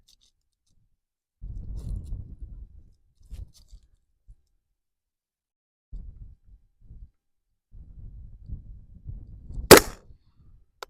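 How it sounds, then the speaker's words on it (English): Distant AR-15 rounds striking a steel target plate at long range, heard as a few soft, dull knocks spread over several seconds amid low rumbling outdoor noise, with one sharper, brighter crack near the end. "Those are a little bit low on the plate"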